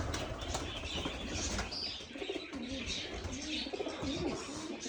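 Pigeons kept for sale, cooing and flapping their wings close by in a steady, busy chorus of coos and wingbeats.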